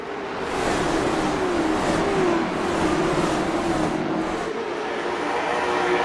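Race cars at Myrtle Beach Speedway in iRacing, a pack of engines roaring loudly and continuously at high revs, with pitch shifting as cars pass close by.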